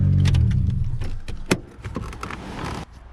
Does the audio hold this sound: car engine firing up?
yes